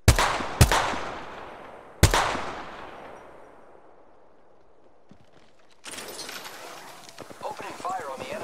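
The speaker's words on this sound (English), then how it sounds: "Opening fire on the enemy." Gunfire in the Apex Legends video game: two quick sharp shots, then a third loud blast whose echo rings and fades over several seconds, followed by busier clattering effects and a voice.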